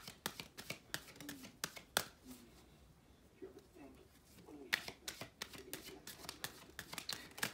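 Oracle cards being shuffled by hand: a quick run of crisp card flicks and riffles, a brief lull, then more snappy shuffling, fairly faint and close with a few soft bird calls behind.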